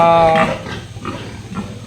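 A pregnant sow grunts at close range while being dewormed with ivermectin on a pig farm, giving low rough grunts, with a louder burst at the start.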